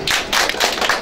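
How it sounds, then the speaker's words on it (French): Congregation clapping during a church worship service, a short burst of dense, rapid handclaps close and fairly loud, with no talk over it. "Applaudissez pour Dieu."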